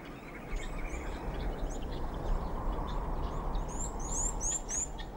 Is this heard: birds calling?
yes